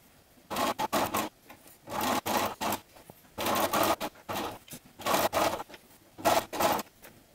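A sewing machine backstitches a fabric bunny basket in several loud, close bursts of rapid stitching, separated by short pauses, with no voices.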